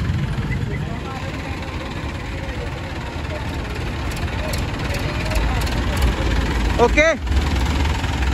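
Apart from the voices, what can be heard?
Massey tractor engine started and idling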